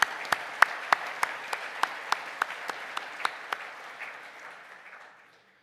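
Sparse, thin applause for graduates at a conferring ceremony, a few distinct hand claps ringing out in a steady rhythm over a soft wash of clapping that fades away to silence.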